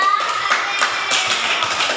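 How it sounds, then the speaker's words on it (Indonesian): A primary-school class of fourth graders clap together for a fellow student during a maths lesson, a steady patter of many small hands filling the room at close range. "Tepuk tangan dulu untuk Afriza."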